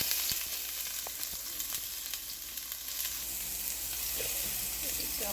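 Garlic, ginger and green onion frying in canola oil make a continuous bright sizzle with scattered pops and occasional clicks of stirring, steady and fairly close, with no speech over it.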